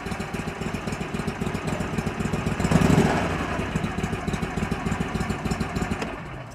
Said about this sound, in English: we can start it up. Let it idle.